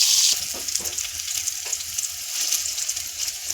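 Eggplant slices fry in hot oil with a loud, continuous crackling sizzle close by, broken by a few soft stirring scrapes and no talking.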